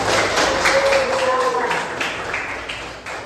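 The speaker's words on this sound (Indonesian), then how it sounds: "Silakan tepuk tangan" A classroom of students claps hands together in a moderate, somewhat scattered burst that fades gradually, with voices faintly mixed in.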